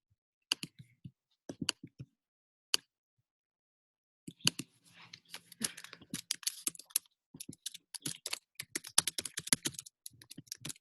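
Clicky computer keyboard typing close by, a few scattered keystrokes at first, then a rapid irregular burst of keys, quiet otherwise.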